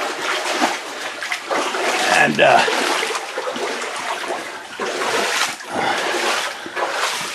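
Water splashes and trickles through a flooded passage in an old coal mine, with tramway rail lying under the surface. Close, uneven sloshing goes on throughout, and a voice says a single word.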